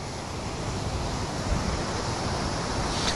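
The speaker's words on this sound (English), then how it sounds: "this time around the waves are huge, immense current" Huge ocean waves at Juhu beach during Cyclone Biparjoy roar as a loud, continuous surf wash mixed with buffeting wind noise on the microphone, with no voices.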